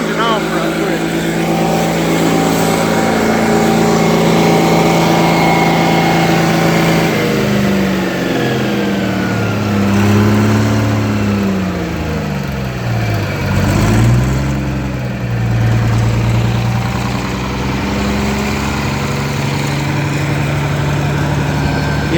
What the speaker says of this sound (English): I'm going to turn that engine off right quick.